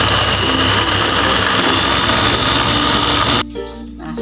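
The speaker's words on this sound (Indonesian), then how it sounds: "atau kita blender aja biar cepat." Blender grinding chilies with oil and salt, a loud continuous motor whir with gritty churning that runs steadily for over three seconds, then cuts off abruptly.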